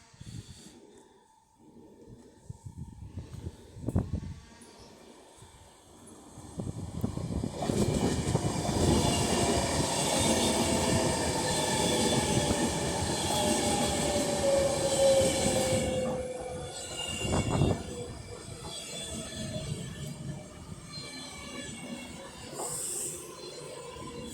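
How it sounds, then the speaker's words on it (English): A Class 390 Pendolino electric train from London Euston to Manchester Piccadilly arrives at Rugby on the West Coast Main Line, its rushing roar and rail hiss swelling loudly, then easing, with a clunk near the end. "now coming in is another Class 390 Pendolino running from London Euston to Manchester Piccadilly"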